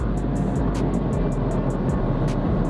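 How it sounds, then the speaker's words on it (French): Continuous whirring drone, heard as a starter motor grinding nonstop while a small car drives along in traffic, steady and close with a low rumble and a faint repeating ticking pattern on top. "Il y a le bruit du démarreur en continu, mais genre la voiture elle avance"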